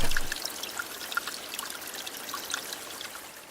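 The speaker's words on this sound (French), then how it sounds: "L'eau déborde et ruisselle tout le long du calan." Irrigation water spills over a ditch and runs along a hay meadow channel, making a soft, continuous trickling and gurgling with faint droplet plinks, quiet and close.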